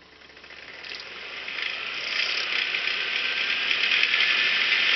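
A compressor test machine starts up and runs, a steady mechanical whir and hum rising gradually in loudness and holding near the end.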